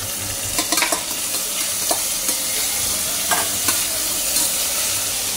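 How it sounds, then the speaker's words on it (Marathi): Tomatoes and chillies frying in a pan with asafoetida, a steady soft sizzle broken by occasional stirring scrapes, close and alone. "एक 2 मिनिटं चांगलं भाजून घेऊया"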